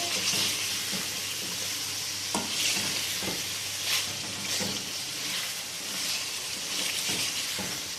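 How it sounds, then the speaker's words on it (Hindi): Achar gosht masala with crushed cumin frying in a pan, a steady broadband sizzle carrying on throughout with occasional scraping stirs, close and fairly loud, no voices. "मसाले को हम अच्छे से भून लेंगे।"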